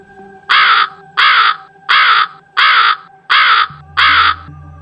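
A crow caws six times in a steady, evenly spaced series of loud, harsh calls, close by and clear, with a faint low hum entering near the end.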